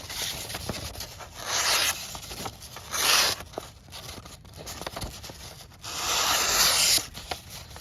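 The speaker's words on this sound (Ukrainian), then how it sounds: "Перевіримо заводське загострення" A Sencut Toxodon knife with a factory edge slices through bread, giving repeated rough sawing and crunching strokes in bursts, fairly close and clear with no talk.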